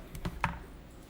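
Computer keyboard keys pressed for a Ctrl and F1 shortcut: two or three quick, faint plastic clicks in close succession in a quiet room.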